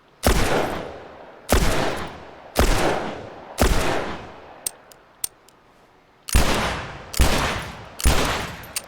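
Gunfire in The Last of Us, on a highway stretch: seven heavy, booming shots at roughly one-second intervals, each ringing out and decaying, with a couple of sharp metallic clicks in a pause mid-sequence.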